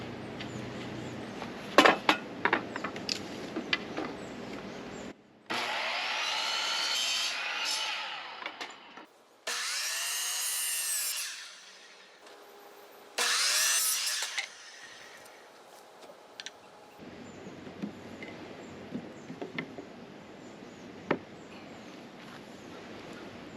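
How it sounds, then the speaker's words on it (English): Wood pieces are cut with a power saw for a custom RV interior door. Three loud whining bursts of a few seconds each stand between quieter handling clatter and knocks, with no talking. "So now I'm going to cut 3 of these, one for the top, one for the bottom, one for the middle"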